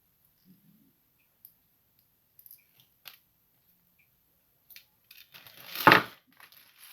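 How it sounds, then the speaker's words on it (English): Wire cutters snip off a piece of a homemade sugar glider toy: a few faint scattered clicks, then one loud close crunching snip near the end, with no talk. "So then get the cutters. Cut that off."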